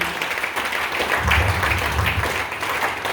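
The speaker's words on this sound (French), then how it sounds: "Les acclamations pour Jésus." A church congregation at a revival service applauds and cheers in praise of Jesus, a full, continuous burst of clapping with mixed voices rising through it.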